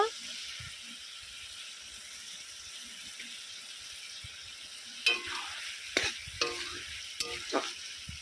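Shrimp and banana flower curry cooks in a pan with a steady, even sizzle, then a few louder scraping clatters of stirring near the end.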